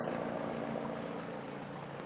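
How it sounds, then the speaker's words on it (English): A helicopter passing overhead, a steady broadband rotor and engine roar that holds level throughout, moderately loud and without talk. "They got a helicopter passing"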